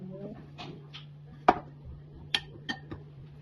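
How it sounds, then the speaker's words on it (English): A spoon mixes breadcrumbs and egg into chicken stuffing in a bowl, giving a few quiet, sharp clinks against the bowl over a low steady hum. "add 200 milliliters breadcrumbs and an egg and mix it together with a spoon"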